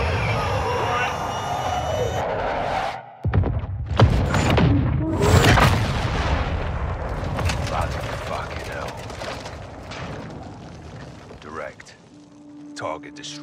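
Airstrike explosions in Call of Duty Modern Warfare II, a string of heavy booms and blasts with crackling debris and rumbling after an abrupt cut, fading into a mechanical drone, with spoken voices over the battle.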